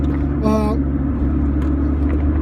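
Interior engine drone of a 1991 Honda CRX 1.6i-16 while driving: a steady low rumble with a brief rising tonal whine burst early on, close and fairly loud.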